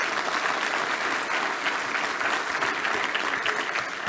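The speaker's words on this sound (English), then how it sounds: "if I can get a round of applause for AES" Steady applause from a conference audience at an enterprise technology keynote, dense and continuous clapping filling the room at even loudness for several seconds without voices.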